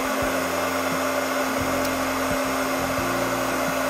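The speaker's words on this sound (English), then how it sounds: "Depends on the temperature of your heating gun." A heat gun blows a steady, even whirring hiss close by while heating the plastic arm of a Spin NEO dental articulator, with faint clicks and shifts in the background and no speech.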